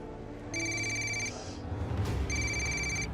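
A telephone rings unanswered in two bursts of electronic trilling separated by a brief pause, fairly close and clear against faint room noise.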